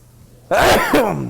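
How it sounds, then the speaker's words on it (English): A single close, loud sneeze bursts out abruptly and trails off into a breathy tail, heard by itself during home cooking of Cajun chicken fried steak. "now I have to sneeze"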